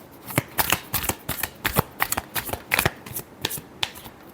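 A deck of tarot cards is shuffled by hand close up. Quick, rhythmic, papery riffles and slaps repeat steadily, quiet and alone, with no talk.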